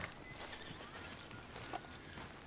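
Horse hooves clip-clop steadily at a slow walk while a horse is led in Red Dead Redemption 2, faint and even, with no talking.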